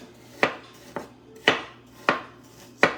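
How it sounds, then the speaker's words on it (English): Knife chopping apples on a cutting board for apple cinnamon oatmeal cookies, heard as five sharp, close chops at an uneven pace with quiet pauses between them. No one speaks. "So almost done chopping up these apples."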